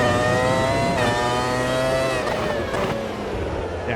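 A 1997 McLaren Formula 1 car in a racing video game holds a loud, close, high-pitched engine whine at sustained revs. The pitch shifts and dips slightly near the end, with no voices.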